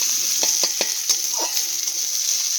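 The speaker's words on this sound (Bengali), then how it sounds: "পেঁয়াজটি একটু লালচে ভাব না আসা পর্যন্ত পেঁয়াজটি ভাজতে থাকবে।" Chopped onions and bay leaves fry in a pan with a steady bright sizzle, while a spoon stirs and scrapes a few times against the metal, the clicks close and distinct.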